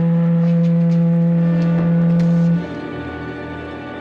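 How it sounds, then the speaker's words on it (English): A steady, deep foghorn blares from a drifting ship, loud and sustained for over two seconds before cutting off, leaving a lower droning rumble behind. "But its foghorn is still sounding, so there may be someone alive on board."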